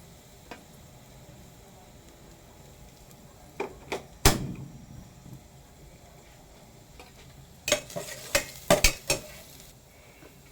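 Garlic sizzling in a pan for a misua dish with patola and egg, with soft frying hiss beneath a few scattered scrapes and clinks of a utensil stirring, clustered near the middle and end.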